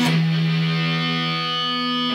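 Distorted electric guitar strings keep ringing after a struck chord, an unwanted sustained buzzing drone that holds steady and loud with reverb for about two seconds.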